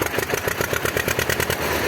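A small homemade tractor with a T-25 engine and T-25 front axle idles close by, a fast, even diesel chugging with steady rhythmic pulses and no talk.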